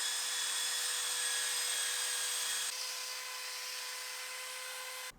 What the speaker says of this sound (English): Then I'm unleashing the big boy belt sander, which is going to help get things even flatter and smooth too.